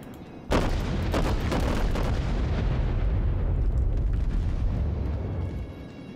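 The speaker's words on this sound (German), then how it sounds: "Da fliegen unsere Schüsse." A rapid series of heavy booming naval cannon shots from the battleship Amagi in the video game World of Warships, one right after another, merging into a dense rumbling barrage that fades out at the end.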